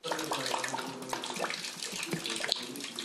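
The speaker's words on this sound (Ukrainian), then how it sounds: "Зараз заливає мою квартиру і всі, всі квартири по нашому стояку." Water pours and splashes steadily into an apartment through a building's riser pipe, a dense, continuous rushing with scattered drips and clatters, fairly close and with no talking.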